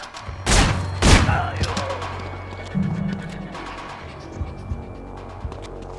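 Two heavy shotgun blasts fire in quick succession inside a big open room in Manhunt, each booming loudly before a low rumbling hum and scattered thuds trail off.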